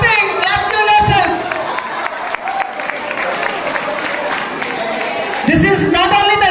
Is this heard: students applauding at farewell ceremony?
yes